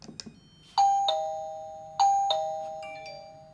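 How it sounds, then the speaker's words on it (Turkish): A wireless smart video doorbell rings two bright electronic ding-dong tones, then repeats the pair, each note ringing out and slowly fading; no one speaks. "Bu şekilde kısa bir zil de atayabilirsiniz"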